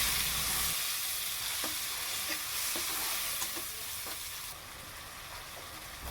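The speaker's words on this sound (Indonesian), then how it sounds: "Panaskan minyak sisa menggoreng ikan secukupnya untuk menumis bumbu yang sudah dihaluskan." Ground spice paste sautés in leftover fish-frying oil, giving a steady sizzle with soft scraping stir strokes at intervals; the hiss eases partway through, becoming quieter.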